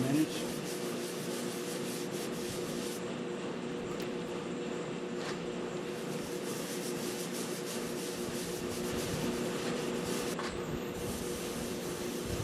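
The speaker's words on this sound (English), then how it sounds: "I pretty well got her sanded down" Sanding a black walnut salad bowl turning slowly on a lathe, a steady soft rubbing hiss with faint low machine hum running continuously for about twelve seconds, no voices.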